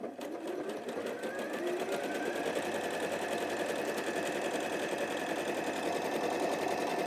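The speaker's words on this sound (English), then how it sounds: "Choose your stitch, so I'm going to have a go to stretch one. It's number 14. And then start to sew." A sewing machine runs a stretch stitch, number 14, in a continuous, close, rapid whirring rhythm that holds steady throughout without talk.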